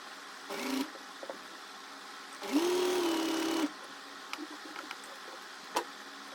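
A sewing machine stitches the shaped seams of a high-low flared top in two bursts, one short and one longer, each with a steady motor whir, and quiet gaps between them.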